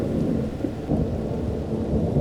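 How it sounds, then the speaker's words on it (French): Heavy rain pours steadily with a low, rolling rumble of thunder beneath it, dense and continuous. "au loin, sous la pluie battante"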